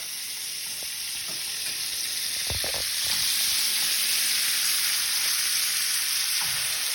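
Bacon strips frying in a pan, a steady broadband sizzle with continuous crackling hiss throughout, close and fairly loud, a few soft clatters of a utensil partway through and no talking.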